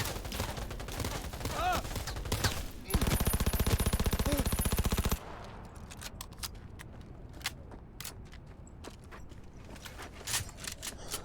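SMG gunfire in Cyberpunk 2077, rapid automatic bursts that turn into a dense, loud stretch of continuous fire before thinning into scattered single cracks over quieter game ambience.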